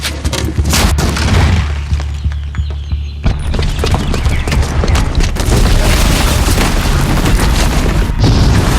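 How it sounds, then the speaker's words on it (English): Loud booby-trapped bomb blast in Horizon Zero Dawn: heavy continuous rumble with cracking, crashing debris bursts that keep on across the stretch, no pause or quiet. "the booby trap on the bomb downstairs is gonna get set off"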